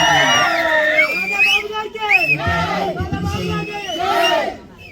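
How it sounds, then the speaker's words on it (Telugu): Rally crowd for Vangaveeti Mohan Ranga shouting and cheering together, a loud dense roar of many voices with whoops and bellowed calls rising and falling for several seconds before easing off at the end. "ఈ అరుపులు, కేకలు"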